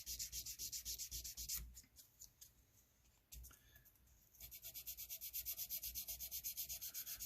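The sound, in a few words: sanding the crown of jumbo frets on a guitar neck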